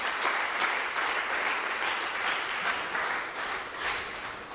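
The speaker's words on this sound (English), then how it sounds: "Please, can we give him a more sounding round of applause?" Dense applause from an audience at a court training course fills the room, steady and loud for several seconds with no talking.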